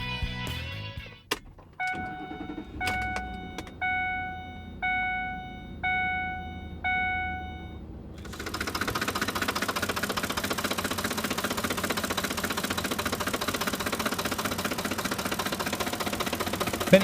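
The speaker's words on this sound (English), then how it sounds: "Have you been hearing a strange ticking or knocking sound coming from your Ford F150 engine lately?" Engine of a Ford F150 pickup with faulty cam phasers: several repeated electronic chime tones, then the engine starts and runs at a steady, close, continuous idle with a rough ticking undertone.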